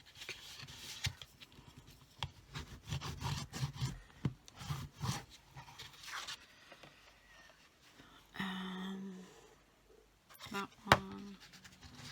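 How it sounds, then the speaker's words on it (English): Cardstock for a Christmas card box is folded and burnished by hand, giving bursts of close, dry rubbing and scraping strokes with brief pauses and a couple of sharp creasing sounds. "So I'm going to fold now and burnish."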